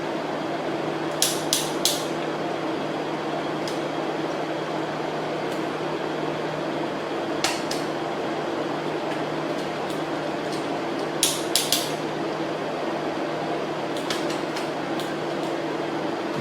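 A bicycle shift lever clicks sharply as gears change, in short bursts of two or three clicks spread across a steady mechanical background hum.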